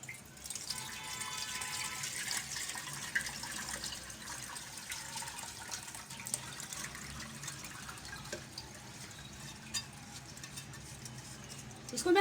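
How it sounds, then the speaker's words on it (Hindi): Yakhni stock for a pulao is poured through a sieve into a pot, giving a steady, continuous splashing and trickling of liquid nearby, with a few faint clinks near the end. "अब ये मैंने यखनी को छान लूँगी"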